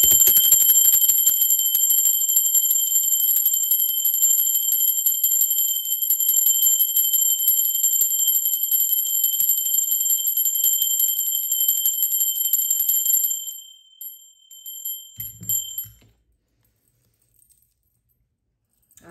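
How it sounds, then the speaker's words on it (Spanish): A small bell rings with a sustained high metallic tone during a tarot reading, fading and stopping after about thirteen seconds, followed by a few faint clinks and then silence. "Ahora sí, va campana, Mursi."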